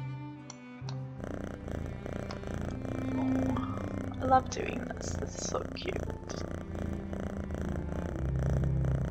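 A kitten in the Barbie Princess and the Pauper video game purrs softly and steadily while being groomed, running under game sounds and someone talking over it.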